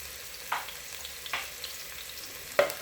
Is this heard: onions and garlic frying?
yes